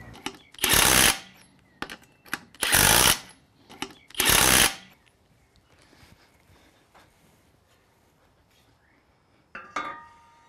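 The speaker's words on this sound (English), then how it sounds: "be careful when working with power tools and alloy rims" Power tool working the wheel nuts on an alloy rim of a 4WD, three loud bursts of impact-driver rattling with short clicks and pauses between them, then quiet clanks of handling.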